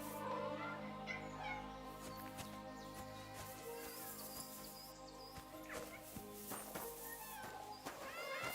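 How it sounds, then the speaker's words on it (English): Several cats meowing in the medieval role-playing game Kingdom Come: Deliverance 2, overlapping mewing calls repeating over a constant musical and ambient background, fairly faint overall. "Is that meowing? How many of them are there, for Christ's sake?"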